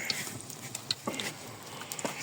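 Potato pakoras fry in hot ghee outdoors on a village night, giving off faint, scattered pops and crackles spaced irregularly over a quiet background.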